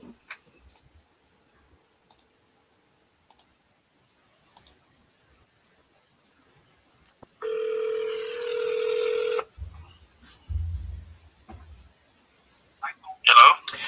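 A telephone call being placed: scattered faint clicks, then a steady ringback tone of about two seconds, followed by low thumps as the line connects and a voice begins to answer.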